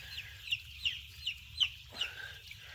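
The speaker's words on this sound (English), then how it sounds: "these chickies are having to stand up while they eat" Chicks in a brooder house give rapid, regular high peeping calls, about five in under three seconds, close and clear over a low mechanical hum.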